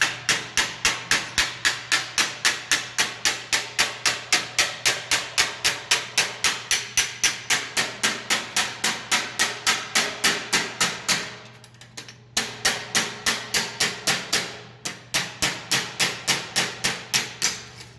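A hammer lands rapid glancing blows on sheet metal while a flange is shaped, a long train of sharp, ringing metallic strikes in quick steady rhythm, close and loud, broken by two short pauses.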